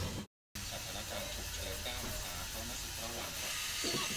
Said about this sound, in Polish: Na tym gotuje się woda